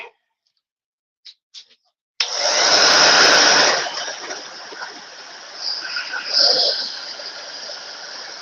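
A hair dryer switches on after a few small clicks and runs loud and steady close by, drying a freshly made DIY fall sign, with slight shifts in tone as it moves.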